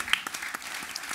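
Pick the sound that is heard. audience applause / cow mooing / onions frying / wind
audience applause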